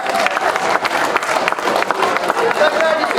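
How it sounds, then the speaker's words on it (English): Crowd at a junior football club presentation day breaks into clapping and some cheering, an uneven, lively patter of many hands close by, with voices mingling in the noise. "Can we give everyone a round of applause?"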